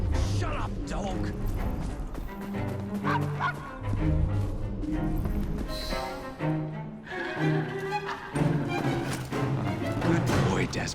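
A dog barks and yips repeatedly in Assassin's Creed Syndicate, loud close woofs in uneven bursts with whimpering notes, mixed with game sounds and a shouting voice.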